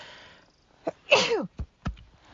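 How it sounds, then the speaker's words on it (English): A single sharp sneeze, preceded by a short inhaling gasp and followed by a few faint breathy sounds, all close and fairly quiet. "Oh gosh, I think I have to sneeze."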